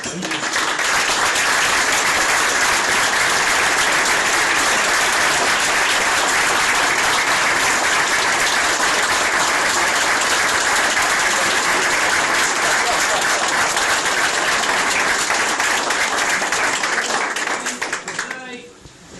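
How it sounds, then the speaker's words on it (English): A large audience at a retirement send-off gives a long, sustained round of applause, dense and loud clapping from many hands continuing evenly for nearly twenty seconds before tapering off at the end. "finish off a big round of applause to thank him for his 36 years"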